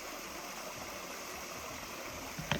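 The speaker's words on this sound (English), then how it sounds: "No water flow problem here." Stream water flows steadily nearby, a faint, continuous broadband rush without pauses, with a brief soft knock just before the end.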